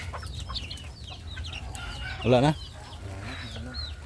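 Native chickens and chicks cluck and peep close by, with one louder clucking burst partway through, while a person speaks briefly.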